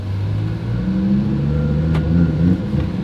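Twin-turbo Audi R8 RWS pulling away on a drive, its engine droning low and steady with a rising rev toward the end, close and continuous with no talking.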